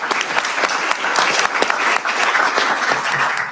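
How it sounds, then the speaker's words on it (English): An audience at a public school gathering gives a school team a dense, steady round of applause, loud, close clapping sustained throughout with no talk. "Give them a round of applause."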